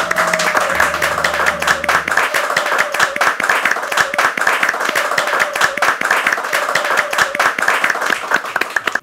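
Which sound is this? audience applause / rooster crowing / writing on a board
audience applause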